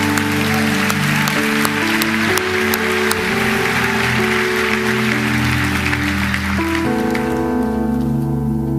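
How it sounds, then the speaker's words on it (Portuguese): Congregation clapping during a church sermon, a loud continuous patter of hands over sustained organ or keyboard chords that shift pitch, with no talking over it. "Se é para Jesus, você pode aplaudir."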